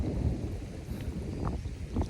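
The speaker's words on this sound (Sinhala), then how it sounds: "බලාකුළු වලින් වැස්ස වැටෙනවා." Rain falling from clouds over open country, a steady low rumbling wash with wind buffeting the microphone and a few faint drop-like ticks.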